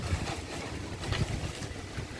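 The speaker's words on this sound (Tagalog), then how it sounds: "Mahangin. Mahangin pa." Steady wind blows across an open-air site where an anahaw-leaf roof is being put on a bahay kubo, a broad continuous rush with gusty swells, fairly loud and unbroken.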